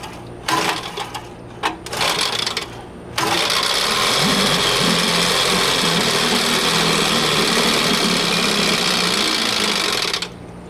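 A rebuilt 1964 Evinrude 3 HP outboard motor runs in a test barrel, first sputtering in short bursts, then catching and droning steadily and loudly for about seven seconds before cutting out.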